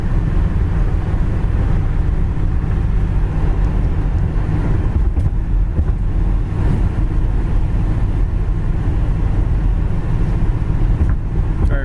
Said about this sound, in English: There's your kick down again. Shifts right back up. Goes down the road.